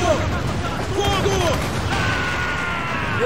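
Ship cannons boom in a naval battle in Assassin's Creed 4 Black Flag, a steady din of blasts and crashes under shouted voices and sea noise.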